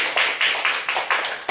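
Congregation clapping in church, a quick run of sharp, bright claps in bursts roughly every fifth of a second, close and fairly loud with no talking.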